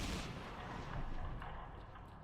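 Dense, rumbling bursts of gunfire from the video game S.T.A.L.K.E.R.: Shadow of Chornobyl, loud and continuous with no clear gaps, like sustained heavy shooting.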